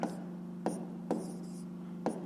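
A pen writes out a fifth-grade maths solution on paper, a soft continuous scratching broken by a few sharp taps and strokes, close and quiet with no talk.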